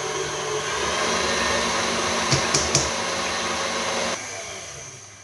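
An electric mixer whirs steadily as it blends hazelnut powder into a creamy paste, a loud constant motor drone with a few brief knocks near the end before it cuts off.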